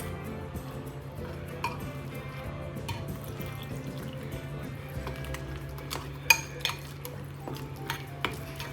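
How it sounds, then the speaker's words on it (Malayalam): Metal utensils clink and scrape against a bowl as chili paste is stirred with water, with small irregular taps and a few sharper knocks, close by and fairly quiet. "കുറച്ച് വെള്ളം ഒഴിച്ചൊന്ന് കലക്കി വെക്കേ."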